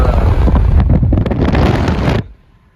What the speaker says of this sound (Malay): Kencang angin, nak terbang nanti